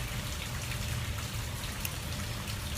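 Rain falls outside on a Wednesday afternoon, a soft, steady patter and trickle heard faintly and evenly throughout, with no one talking.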